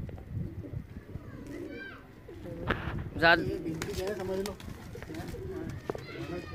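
Pigeons coo softly nearby amid rustling and flapping, while a person speaks a few words over them.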